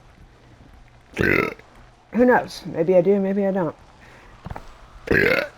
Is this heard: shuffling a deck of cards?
no